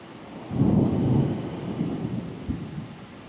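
A violent mountain thunderstorm, with a heavy rolling thunder clap swelling up close and rumbling away over steady rain.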